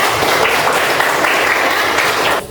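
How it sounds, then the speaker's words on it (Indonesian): Students in a classroom clap together in a loud, close round of applause that holds steady for a couple of seconds and then cuts off abruptly. "kita beri tepuk tangan untuk kita semua dulu ya."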